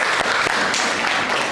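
Applause from a class of students in a sociology lesson, a dense steady wash of many hands clapping close by for under two seconds.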